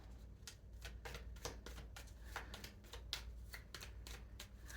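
Tarot cards being shuffled by hand, a quiet run of rapid riffling flicks and soft slaps in an irregular rhythm, close up over a low steady hum, with no talking.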